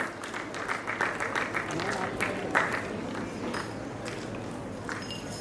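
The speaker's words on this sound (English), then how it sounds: "We need to keep clapping, please." An auditorium audience keeps clapping steadily at a student prize distribution ceremony, continuous crowd applause with a voice over it.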